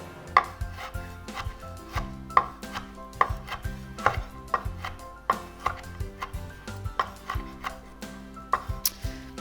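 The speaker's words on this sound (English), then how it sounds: "I'm just gonna chop these in half." A knife chops repeatedly against a cutting board, crisp knocks in a steady, fairly quick rhythm, close and clear with no talking.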